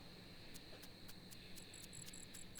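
Steady cricket chirps pulse at a regular rhythm over a constant high insect drone in the video game Dinkum, with a faint bird-like trill joining later; no voices.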